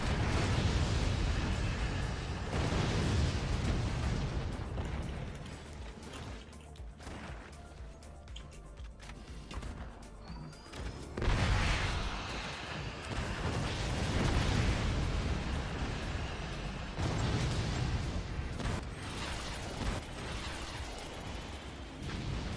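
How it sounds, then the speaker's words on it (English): Nuke explosion in the physics-based fort battle game Forts: repeated heavy blasts and rumbling crashes swell and fade over twenty seconds, loud and dense, with brief quieter gaps between bursts. "I think I took out the teammate's nuke as it was passing through the opponent's base, and that did a huge explosion of damage"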